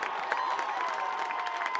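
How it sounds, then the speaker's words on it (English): A college football stadium crowd at a Ripon College versus Cornell game cheers and applauds after a big defensive stop, a steady, fairly distant roar of voices and scattered clapping. "As that just got this crowd all riled up."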